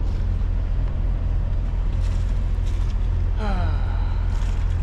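A sailboat with its mainsail up motors down the coast, its engine a steady low drone that stays even throughout, with a brief faint voice rising near the end.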